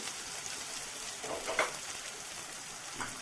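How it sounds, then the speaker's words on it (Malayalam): Chopped ingredients for a dal curry fry in a hot pan, giving a soft, steady sizzle with a few brief crackles near the middle and end, quiet and without talk. "എന്നിട്ട് ഇത് നന്നായിട്ടൊന്ന് ഫ്രൈ ചെയ്ത് കൊടുക്കാം കേട്ടോ."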